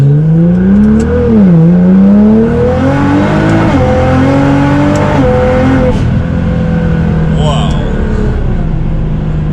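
A Nissan GT-R R35 running on flex fuel accelerates hard. The loud engine note climbs in pitch, dips at gear changes and rises again, heard from close inside the car as a continuous, powerful drone.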